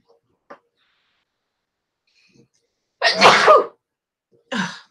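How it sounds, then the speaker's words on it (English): A loud, sharp sneeze bursts out after a few faint sounds, followed shortly by a smaller second burst. "I'm gonna sneeze."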